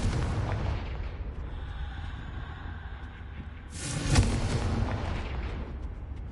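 A Confringo spell explosion in a video game bursts with a sharp boom and crackling blast after a stretch of low rumbling, then a fading roar.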